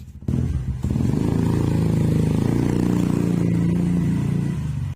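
A Yamaha Mio Sporty scooter, checked over for a worn-out drive belt, revs and runs steadily on a test ride, its engine droning loudly and continuously close by for about five seconds.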